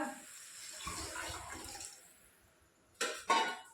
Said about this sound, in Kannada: ನೀರು ಹಾಕಿ ಮಿಕ್ಸ್ ಮಾಡ್ಕೊಂಡಲ್ಲ